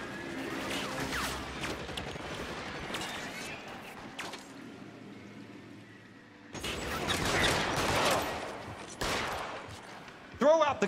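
Gunfire in the crime game LA Noire, with bursts of shots and clatter in two loud stretches separated by a quieter lull, mixed with other game sounds and occasional voices.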